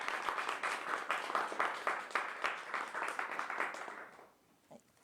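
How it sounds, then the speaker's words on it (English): Audience at a 2018 university student government debate applauds the candidates, a crowd of hands clapping steadily for about four seconds before fading out, followed by a brief faint noise. "Could we get a round of applause for the candidates,"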